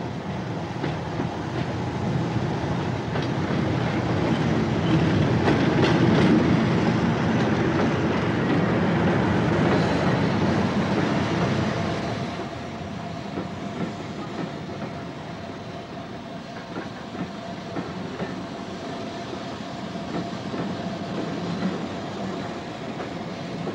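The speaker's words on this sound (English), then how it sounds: "The arrival of a British railway's diesel for Glasgow brings us sharply back to the present day." A British Railways diesel train bound for Glasgow pulls in on a Scottish line, a loud continuous rumble with rhythmic clickety-clack of wheels that peaks and then settles to a steadier, quieter roll as it slows.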